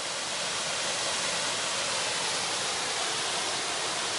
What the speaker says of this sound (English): Massive waterfall over there.